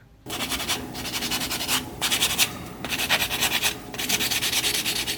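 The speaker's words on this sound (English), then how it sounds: "I'm going in with a sanding block" Close, steady rasping strokes of a sanding block on polygel fingernails, repeated in short bursts with brief pauses between them, no voices.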